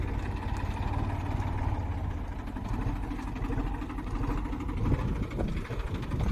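A tractor engine idling nearby, a continuous low rumbling drone that holds steady throughout.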